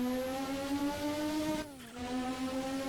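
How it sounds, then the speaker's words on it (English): Turbocharged race car engine in a racing video game, a steady harmonic drone that dips in pitch mid-clip as the throttle lifts with a fluttering turbo sound, then settles back, loud and close with no talking. "Oh, but listen to that flutter of the engine."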